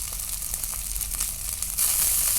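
Shallots and curry leaves sautéing in hot oil for a Kerala-style fish curry give a steady close sizzle that grows louder and hissier near the end.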